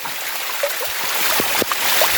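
Waterfall stream at Sap Sa Kaeo after evening rain, a steady broadband rush of flowing water with faint splashes and trickles, continuous and fairly close, no talk.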